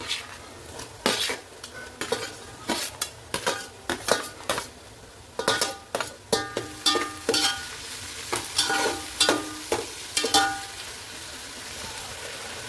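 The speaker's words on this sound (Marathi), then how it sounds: "टोमॅटो चांगला मऊ होईपर्यंत तेलामध्ये शिजून घेऊयात." Tomatoes fry in oil in a pan for chicken biryani while a spoon stirs them: steady sizzling under repeated loud metallic scrapes and clanks against the pan, close up, with no talking.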